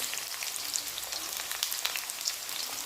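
Onion frying in hot oil for an Assamese-style mutton curry: a steady, close, hissing sizzle with crackly pops all the way through, without any speech.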